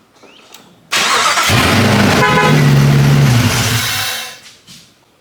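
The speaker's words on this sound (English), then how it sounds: "We'll see if it'll crank with a key." A Jeep Grand Cherokee WJ engine cranks over with the key in a loud, close burst lasting about three seconds, a rough whirring churn that fades out without catching, with no voices.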